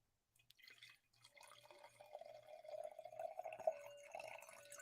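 Wine poured into a glass, a steady liquid trickle and fill that builds and grows louder for several seconds, heard up close and alone after a short quiet start.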